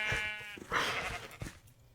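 Minecraft sheep bleat twice, a wavering nasal call followed by a shorter second cry, close and clear against a quiet game background with no talking.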